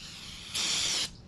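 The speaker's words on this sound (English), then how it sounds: "Spray it out." A half-second burst of aerosol spray cleaning the hydraulic clutch parts of a 2016 Harley-Davidson Street Glide FLHXS, a loud steady hiss that starts and stops abruptly over a low background hum.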